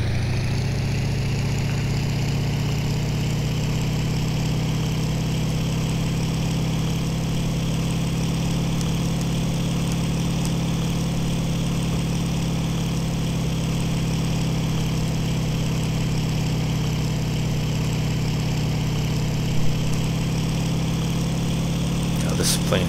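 A fighter plane's engine drones steadily and loudly throughout a session of the IL-2 combat flight game, a constant low hum that barely changes in pitch or level.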